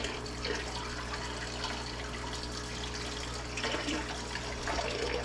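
Water is poured steadily into a planted aquarium onto driftwood, giving a continuous gentle splashing and trickling over a low steady hum, with no talk.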